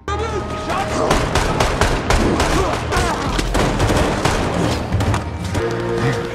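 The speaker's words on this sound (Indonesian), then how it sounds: "Ben tak menyerah begitu saja dan tetap berusaha menembaki musuh yang terus mengejar" Rapid gunfire in an action film forest chase scene, dense bursts of shots and booms stacked over a driving musical score, loud and continuous throughout.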